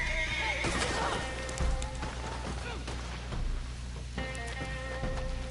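A horse whinnies loudly near the start in the PlayStation 4 game Red Dead Online, followed by hoof clip-clops and a few more snorts and movement sounds over a low steady hum.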